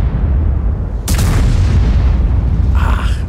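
A tank cannon fires in the game World of Tanks, one sharp, loud boom followed by a long rumbling decay, with faint after-noises near the end and no talking.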